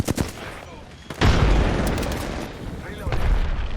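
A frag grenade blast and bursts of gunfire in a first-person shooter video game, with a sharp boom followed by sustained loud rattling combat noise and a softer crack early on.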